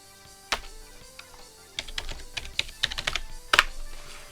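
Someone types a Linux package-install command on a computer keyboard, a close, quiet run of irregular key clicks that speeds up in bursts and ends with a firmer keystroke.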